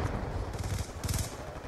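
Rapid bursts of video game gunfire crackle in two clusters, loud and close, over a constant noisy game background.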